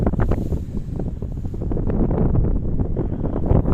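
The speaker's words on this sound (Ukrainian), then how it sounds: "Холодно. Точніше не так не холодно, бо крижаний вітер." Strong, steady icy wind buffets the microphone with a continuous low roar and gusty rumble, no voices heard.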